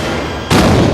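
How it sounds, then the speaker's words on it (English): A loud explosive bang set off to simulate a supernova hits suddenly and stays as a sustained roaring blast, close and powerful after a brief rumbling lead-in. "Man, that was a bang!"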